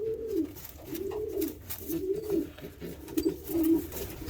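Pigeons coo in a loft with a steady run of low, rounded calls, roughly four or five rolling phrases in close succession, near and clear over faint background hiss.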